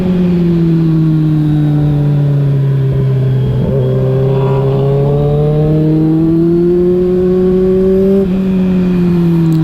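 A Honda CB650F motorcycle ridden fast through a curve, its engine droning loud and close with a pitch that climbs steadily, breaking at two gear shifts before rising again.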